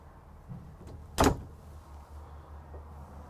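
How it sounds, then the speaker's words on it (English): A pocket door in the bathroom of a Cimarron Lonestar stock trailer living quarters slides with one brief, loud rolling swish, preceded by a faint click and followed by quiet room noise. "here in the bathroom area, one, you have a pocket door, so you don't have a door to work around"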